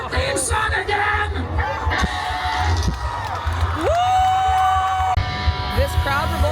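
A large outdoor crowd at a Bowling for Soup set at Warped Tour in Washington DC cheers, whoops and yells close by, with shouting voices rising over a dense roar throughout.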